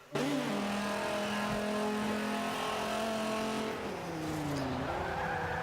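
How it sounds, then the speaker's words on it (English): A 2008 Dodge Viper ACR races a lap in Forza 5, its engine droning loud and steady with shifting pitch and tire squeal, the revs dropping and climbing again near the end. "today I'm doing a parts and tune on an S-Class Dodge Viper, and I'm putting a lap down here on the rivals"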